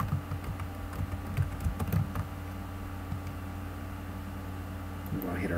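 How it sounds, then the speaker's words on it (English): Typing on a computer keyboard while entering text into a table in Word 2013, a quick run of soft clicking keystrokes up close, bunched near the start and thinning out, with brief talk rising at the end. "we're going to type in hepatitis A"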